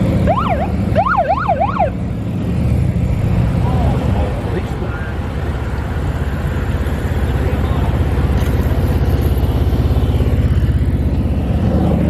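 An emergency vehicle siren wails in a rapid up-and-down warble for a couple of seconds at the start, loud and close. It then gives way to continuous road and engine rumble.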